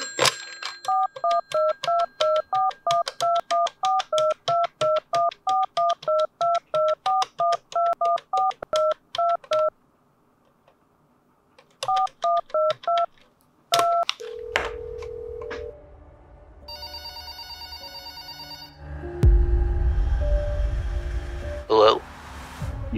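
Telephone number dialed in a trailer: a long run of rapid, evenly spaced keypad tones, a pause, then a few more presses, followed by line beeps and a louder rising burst of other sounds at the end.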